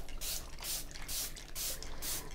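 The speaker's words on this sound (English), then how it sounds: "I'm just using a spray bottle to dampen my paper." A spray bottle misting water onto watercolor paper in four quick hissing bursts, evenly spaced and close.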